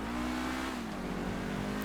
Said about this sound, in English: high tone, high revving engine.